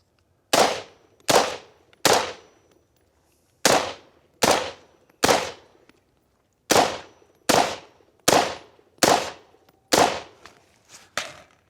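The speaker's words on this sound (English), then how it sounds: "Definitely more aggressive without the suppressor, but way lighter weight." Unsuppressed rifle shots ring out one at a time, about twelve loud, sharp cracks at an irregular, roughly steady pace, each with a short echoing tail and nobody talking.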